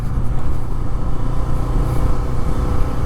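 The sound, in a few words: Bajaj Freedom 125 CNG motorcycle being ridden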